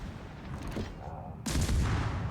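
Naval ship guns fire in a video game, two heavy booming blasts heard over a dense rumbling battle background, the second blast louder and broader.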